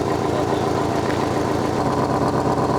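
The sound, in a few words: sports car exhaust in sport mode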